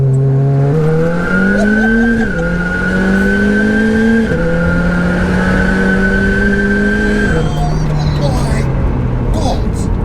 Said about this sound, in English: It's the back box making that noise